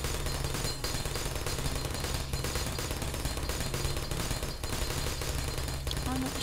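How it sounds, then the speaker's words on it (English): Automated turrets in the video game Portal keep up dense, fast gunfire throughout, a continuous loud rattle of shots with short gaps, with a voice speaking underneath. "Is it when one of the other turrets shoots?"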